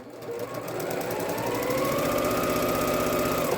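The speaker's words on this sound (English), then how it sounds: "Now we're sewing these in from the top left-hand corner to the middle right." A sewing machine stitches pieces of fabric together in a steady, fast, close mechanical whir that runs on without a break. No one speaks over it.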